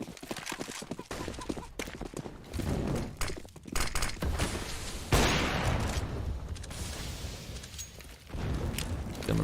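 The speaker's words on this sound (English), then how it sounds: "Nades, mollies, all flying through." Grenade and Molotov explosions burst and crackle in a Counter-Strike match on Inferno. They come in dense, loud volleys, with a sharp blast near the middle and sustained noisy fire after it. No one speaks.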